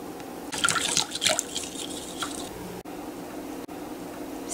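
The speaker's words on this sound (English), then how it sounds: "And now mix this very well for 5 to 7 minutes." Papadi batter with baking soda and water being stirred in one direction, giving close, wet squishing and sloshing in a busy burst early on, then a quieter, steady slurry of mixing.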